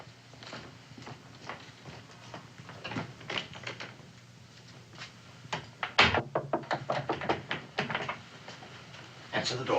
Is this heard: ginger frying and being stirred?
no